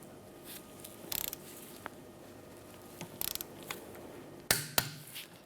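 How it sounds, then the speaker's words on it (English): A torque wrench tightens the rear wheel hub bolts of a 2007-2013 Mitsubishi Outlander to 70 foot-pounds, producing several short bursts of ratchet clicks followed by two sharp metallic clicks near the end, close and fairly quiet. "we're going to go in and torque them down to 70 foot-pounds"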